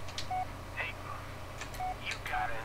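Touch-tone dialing on an old 1990s mobile phone in the Blair Witch video game: a handful of short, quiet beeps spaced irregularly over a low hum, with faint clicks between them.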